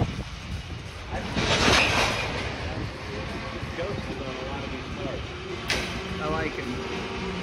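A train rolls past on the rails near Corbin, Kentucky with a dense, broad rumble and clatter. Voices talk over it, and a brief sharp squeal comes near the end.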